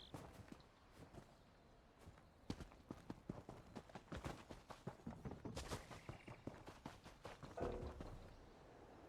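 Horse hooves clip-clop steadily in the video game Skyrim, a walking gait of repeated close thuds that grows busier midway, with a brief whoosh near the end.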